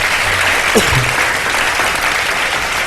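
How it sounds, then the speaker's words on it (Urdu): Studio audience at a televised Ramadan show applauding contestant teams, steady dense clapping throughout, loud and close, with a brief voice near the start. "تینوں ٹیمز کے لیے بہت ساری تالیاں دی۔"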